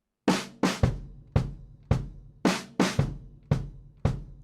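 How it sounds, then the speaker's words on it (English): Drum kit playing a swing pattern with the bass drum on quarter notes under snare eighths: steady, evenly spaced punchy hits with short decays, close and clear, no talking. "First option is we are playing the bass drum as a quarter note for the white spot."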